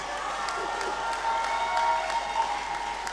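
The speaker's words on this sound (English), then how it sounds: "Put your hands together." Sustained applause from a lecture audience at a memorial lecture, steady and moderately loud with a hint of crowd cheering, continuing evenly throughout.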